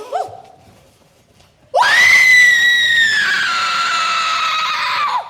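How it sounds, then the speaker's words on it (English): A woman's long, piercing scream rings out loud and sustained from a locked billiard room, following a brief rising shriek and a quiet pause, with no talk over it. "The screams are coming from the billiard room."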